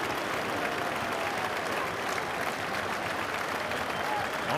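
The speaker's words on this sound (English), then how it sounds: "quite rightly being roundly applauded here by the Derby fans for his outstanding contribution" Derby County fans roundly applauding a player in the stadium during a League Cup match against Manchester United, a steady wash of crowd clapping with a commentator talking over it.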